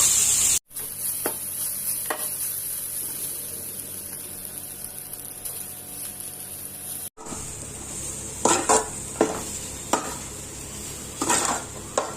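Cooked rice tipped into a hot pan for sweet corn fried rice after soy sauce, with a low sizzle, a couple of sharp clatters and then repeated scraping and tossing strokes toward the end, no talk.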